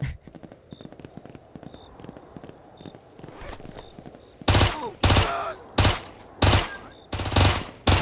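An enemy's gun fires in the PIGFACE video game, first soft rapid ticking, then a series of loud, sharp bursts repeating roughly every half second, near and punchy.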